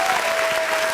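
Dense, steady applause from an audience at a live show honoring a singer, loud and continuous for the whole second with no talk on top.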